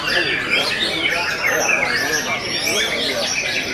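White-rumped shamas (murai batu) sing at a bird-song competition, dense overlapping chirps and whistles running continuously at steady loudness amid crowd murmur.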